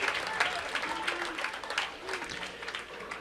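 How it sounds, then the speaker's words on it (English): Applause from the audience at a collegiate singles bowling championship, steady clapping spread across a crowd with some voices mixed in, moderately loud throughout. "let's give the best collegiate athletes a round of applause"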